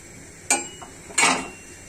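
A normal lid is set onto a cooking pot of garlic khichdi, giving two close metallic clanks about half a second apart with short ringing tails in an otherwise quiet kitchen.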